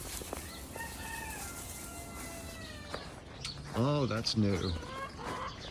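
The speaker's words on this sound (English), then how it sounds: "One of our silkies. Turns out it's a rooster." A silkie rooster crows in a farmyard after a blizzard, with a rising and falling crow partway through. Faint bird calls and steady outdoor background come before it, and a person speaks briefly.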